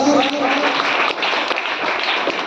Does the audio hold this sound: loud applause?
yes